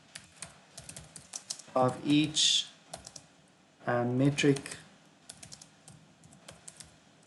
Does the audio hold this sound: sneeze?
no